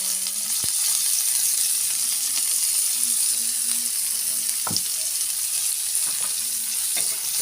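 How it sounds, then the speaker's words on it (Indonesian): Spice paste fries in hot oil as the base for stir-fried water spinach, a steady bright sizzle running throughout with a few faint clinks and taps of a utensil against the pan. "Ini minyaknya sudah panas, mau aku masukkan bumbunya."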